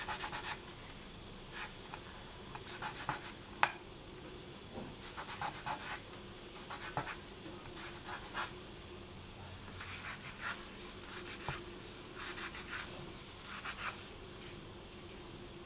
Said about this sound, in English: And then I'm just going to lightly sand.